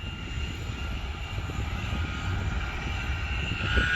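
Heavily loaded six-wheel pineapple truck straining uphill through a curve, its engine a steady low rumbling drone that grows slightly louder toward the end, heard from nearby without talk.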